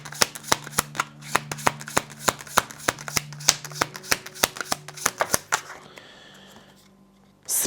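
Cards shuffled and drawn for a spiritual card reading: a quick, steady run of crisp riffling snaps close up, then a short quiet tail with a faint tone as the shuffling stops.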